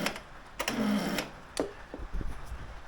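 A Honda Today NVS50 50cc scooter with a flat battery fails to start: a short, strained whir from the starter, then a few faint clicks and taps, all quiet and close.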